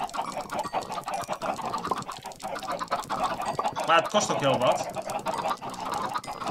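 Chickens clucking in Minecraft, a busy patch of repeated clucks and flapping noises under someone talking.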